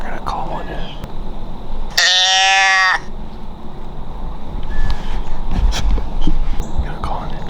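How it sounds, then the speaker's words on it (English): A doe deer bleat call played from a phone speaker in the woods during deer season gives one clear, sustained harmonic bleat of about a second, loud against quiet outdoor ambience. "I'm gonna play a bleed off my phone and we're gonna call one in."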